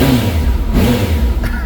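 A 2012 Kawasaki Concours 1400 sport touring motorcycle revs its engine close by, giving a short, loud, snappy burst of throttle over a steady engine rumble.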